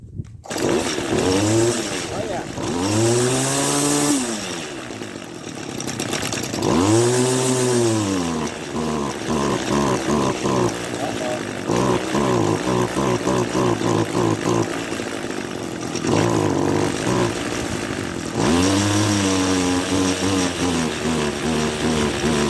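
An old Craftsman two-stroke string trimmer engine runs loud and close, revving up and down in repeated rising-and-falling sweeps with a rough, buzzing idle between them, and no talk is heard over it.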